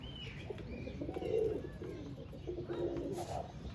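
Pigeons that have just landed after flying coo in low, throaty bursts, close and moderately loud, with faint chirps and some background noise around them.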